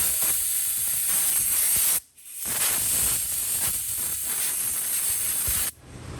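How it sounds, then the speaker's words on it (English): Compressed air blasts brake cleaner out of a car brake on a Subaru Legacy Outback, a loud continuous hissing spray that cuts off briefly after two seconds, then resumes and stops again near the end. "Let's blow the rest of the brake clean out of there."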